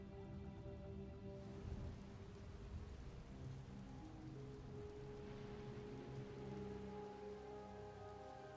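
Heavy rain hissing steadily across the ground in a Star Wars: The Old Republic game storm, with deep rumbling thunder underneath and sustained musical tones threaded through, no voices.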